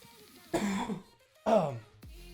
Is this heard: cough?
yes